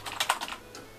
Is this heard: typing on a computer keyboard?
yes